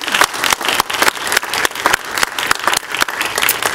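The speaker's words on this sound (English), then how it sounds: "if you join me in a round of applause for our colleague" Loud applause rings through a city council chamber for a colleague, close and sustained, with a distinct rhythmic pulse of clapping running through the whole stretch.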